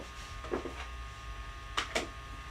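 Yupo paper fed through a crafting machine, a few brief mechanical whirs and clunks against a quiet steady hum, close by.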